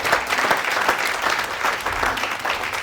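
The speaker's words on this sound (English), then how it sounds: "Round of applause for Alex." Audience applause after a town planner's presentation to a property group in Brisbane, steady dense clapping from a room of people filling the whole stretch without any talk.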